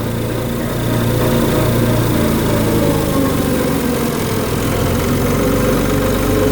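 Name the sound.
tractor engine idling downhill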